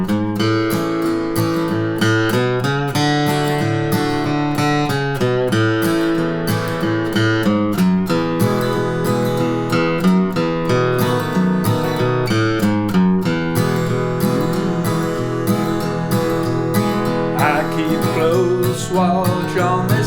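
Bass playing a tune, heard as a steady, full-sounding run of plucked low notes with a walking rhythm mixed into a dense, loud accompaniment, with no speech throughout.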